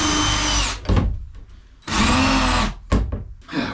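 A power drill drilling out fasteners in floor timbers, loud and close, running in two long whining bursts separated by brief clunks and pauses, with a short restart at the end.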